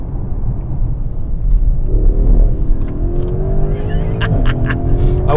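A 2018 Mercedes-AMG GLC 63 S is driven hard, its engine rumbling up into a rising, rough roar as it accelerates through the revs, heard from close by with no talking.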